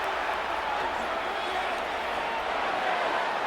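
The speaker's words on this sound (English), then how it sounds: "What about this crowd getting even louder before 3rd and 10?" Stadium crowd in the Madden 26 football game between the Chicago Bears and New Orleans Saints, a steady, moderately faint roar with no single sound standing out.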